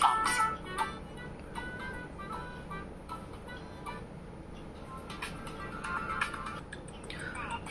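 NCS music plays at full volume through the built-in speaker of a Samsung Galaxy S21 FE phone, coming through thin and fairly faint with steady tonal notes over a background hiss.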